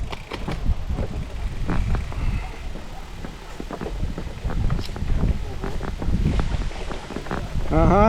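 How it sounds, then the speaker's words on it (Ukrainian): Strong wind gusts buffet a suspension bridge over the Tahamlyk River in Pysarivka, Poltava region, a steady broadband roar under nearby voices and footsteps, with people talking and laughing throughout. "Ого, та тут такий вітер."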